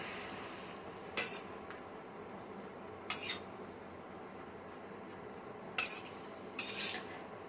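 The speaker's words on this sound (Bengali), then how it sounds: "এবার একটু নাড়া দিয়ে আমি ঢেকে দেবো" A spoon or spatula stirring watermelon rind curry with water in a wok, four short scraping strokes spaced a few seconds apart over a quiet background.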